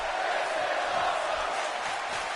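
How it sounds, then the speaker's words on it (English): A wrestling crowd chants at a live event, a dense, steady roar of many voices filling the arena throughout. "Oh, the crowd is chanting"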